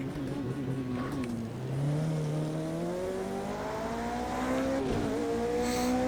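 Florida Racing LMP2 race car accelerating on a wet track during the 24 Hours of Le Mans, heard from on board as a loud, continuous engine whine that climbs in pitch through repeated upshifts.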